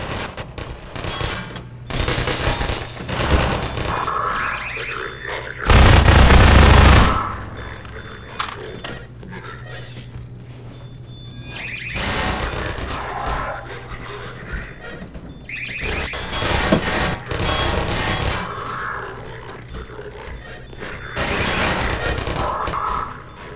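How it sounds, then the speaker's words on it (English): Gun turrets firing in Half-Life 2, with a dense loud burst of automatic fire and rapid clattering shots amid chaotic combat noise, and a voice talking over parts of it. "These two turrets over here, so I'll be your turret person."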